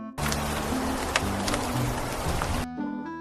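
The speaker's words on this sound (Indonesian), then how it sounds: "hujan pun turun seperti kemarin" Steady rain pours down loudly and close, a dense continuous hiss with a few sharper drops, cutting off abruptly near the end.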